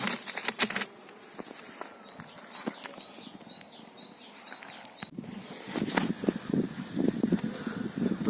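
Honey bees buzzing at an opened hive during a first spring inspection, thin droning whines passing close by over scattered knocks and rustling handling sounds that grow busier toward the end.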